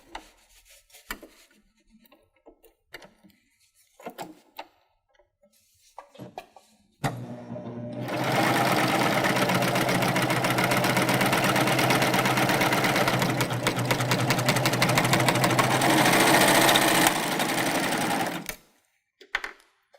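A Baby Lock Euphoria cover stitch machine stitching fabric runs in a fast, steady mechanical chatter for about eleven seconds and then stops, preceded by quiet handling and shuffling sounds.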